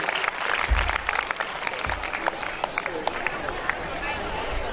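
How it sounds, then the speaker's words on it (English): A school audience in a hall at a National Mathematics Day celebration applauds with sustained, dense clapping and crowd murmur, moderately loud, with voices and a few low thumps mixed in. "Big round of applause for this."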